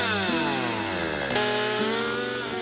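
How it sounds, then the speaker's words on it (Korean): A sharp chainsaw felling trees in a dense mountain forest during logging work, its engine whining steadily with pitch shifts as the chain bites, loud and close with no voices. "우거진 숲에서 날카로운 전기톱을 사용하다 보니"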